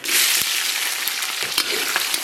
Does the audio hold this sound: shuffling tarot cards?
no